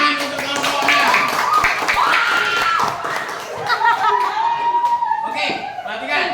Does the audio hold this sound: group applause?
yes